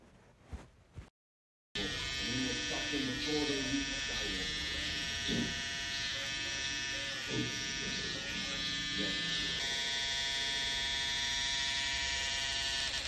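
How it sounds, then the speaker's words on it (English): A Wahl Hero skeleton hair trimmer runs steadily and loudly through a haircut, a continuous high buzz with slight wavering as it moves, after a brief moment of quiet at the start. "this is a powerful, strong, sharp trimmer"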